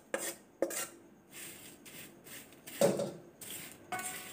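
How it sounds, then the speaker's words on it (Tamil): Roasted dried shrimp is scraped from a pan onto a plate with a utensil, making a few close metallic scrapes, knocks and rustling slides in short separate bursts with no talk. "இந்த வறுத்த சின்ன குனியை ஒரு பிளேட்டுக்கு மாற்றிடலாம்."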